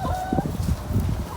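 Chickens and roosters clucking in quick, close bursts, with a short crow-like tone over the flock's chatter.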